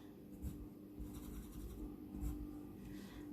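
Music notes being written by hand with a pen or pencil on paper, soft rubbing strokes in a few short bursts, close and quiet.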